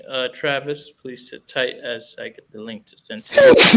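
A sneeze bursts out near the end, loud and close, right after a stretch of a man's speech during an online debate call.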